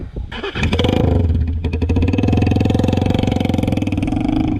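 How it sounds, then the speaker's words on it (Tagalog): A motorcycle engine starts up nearby on an upland trail in Samar, near a road, and settles into a loud, steady throbbing idle with a rhythmic pulse. "may narinig na daw kaming motor"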